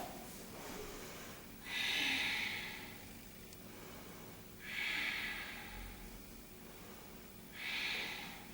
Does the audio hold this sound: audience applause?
no